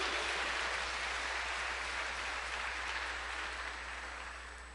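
A church congregation applauds during a sermon, a dense, steady clapping wash from many hands that slowly fades toward the end, with no talking over it.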